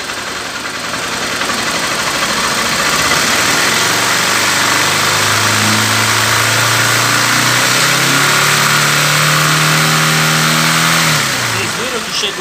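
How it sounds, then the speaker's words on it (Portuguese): A Honda CG 150 Titan motorcycle engine is revved, the low throbbing exhaust note climbing and holding for several seconds before easing back, loud and close, with someone speaking over it. "Agora eu vou acelerar. Vamos ver a diferença agora."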